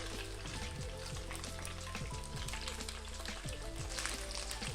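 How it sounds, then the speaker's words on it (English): Tofu crisping in a hot pan of oil for a vegan Northern Thai khao soi, a dense, steady sizzle and crackle of frying that carries on without a break. "We're gonna be just to crisp up the tofu."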